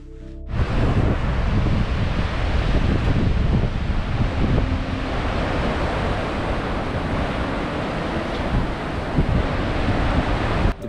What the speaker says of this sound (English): The push of breeze while crossing Hilari Bridge is something that you can only experience